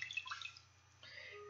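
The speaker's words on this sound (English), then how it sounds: "I'm getting some water so I can rinse this off." Water trickles and splashes softly in a bathroom sink while someone fetches water to rinse a face after a Vitamin C skincare treatment, faint and close, with a brief tap-like hiss and a shift in flow partway through.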